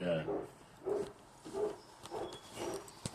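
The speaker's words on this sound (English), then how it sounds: "I hear a dog." A dog barks several times in a regular series of short yaps at moderate distance, with voices talking faintly in the room.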